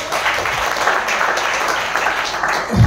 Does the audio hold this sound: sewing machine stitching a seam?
no